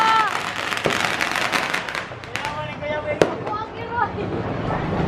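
Fireworks and firecrackers going off during a New Year celebration in the Philippines, with sharp bangs and crackling bursts at about 0.9 s and 3.2 s over a steady wash of distant popping, and voices talking nearby throughout.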